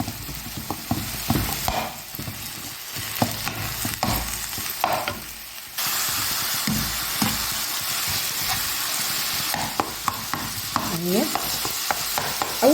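Minced meat fries in a hot pan, a continuous loud sizzle broken by repeated scraping knocks as a spoon stirs it, close and with no voices.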